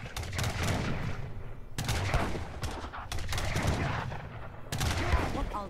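Repeated pistol and musket-style gunfire from an Age of Empires 3 campaign battle, shots crackling in dense overlapping bursts that continue steadily throughout.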